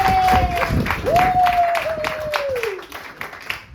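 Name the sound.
audience applause for a comedian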